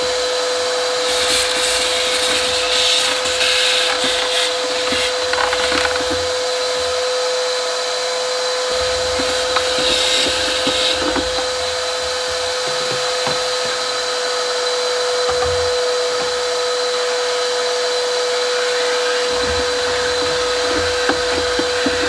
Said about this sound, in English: I'm gonna vacuum and remove some of the dirt that's in here